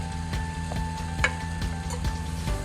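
A sabudana paratha shallow-frying in ghee on a pan over medium heat, a soft continuous sizzle with rhythmic spatula taps and scrapes recurring every fraction of a second, close and without talk.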